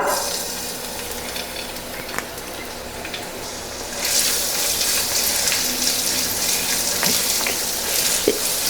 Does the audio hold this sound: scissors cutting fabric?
no